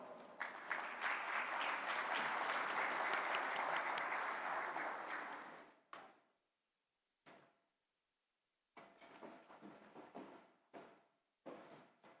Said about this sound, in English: Let's give our speakers a warm round of applause.